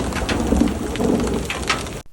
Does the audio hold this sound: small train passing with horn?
no